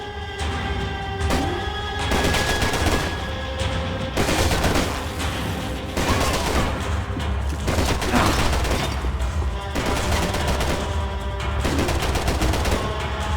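Dense gunfire bursts rattle through a Max Payne 3 firefight, loud and close, with rapid automatic volleys, single cracks and impact smashes layered over one another for the whole stretch.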